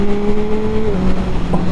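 A 2022 Yamaha MT-09 SP motorcycle on its first ride in Thailand, its engine giving a steady tone that drops in pitch partway through as speed changes, close and fairly loud, with no voices.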